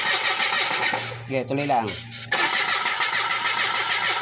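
A Mitsubishi G4 car engine with a broken fuel pump wire is cranked to start, giving a loud, continuous mechanical rumble with a brief dip while someone speaks over it.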